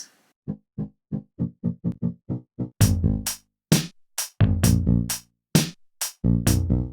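Mario Paint composer bass line from a video game, a string of short, evenly spaced plucky notes that soon sit under the bright, chunky drum hits from before, steady and up close.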